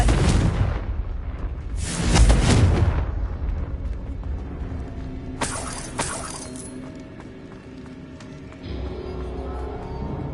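A Confringo blasting spell going off in Hogwarts Legacy, with a sharp crash and shattering burst at the start, a heavier boom about two seconds in, and a later bright crackle that fades into lingering ringing debris and quiet game ambience.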